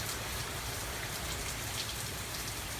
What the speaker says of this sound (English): I could tell the wind and the rain were blowing totally sideways